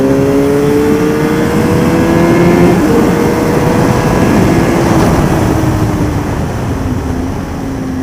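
A motorcycle engine on a race circuit at Le Vigeant pulls hard out of a corner, its loud, steady drone rising in pitch as it re-accelerates, heard alone with no talking.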